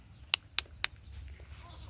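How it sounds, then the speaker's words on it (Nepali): Three short bleats in quick succession, fairly close, over a low rumbling background. "म हाम्रो घरको बाख्राहरू सबै देखाउँछु"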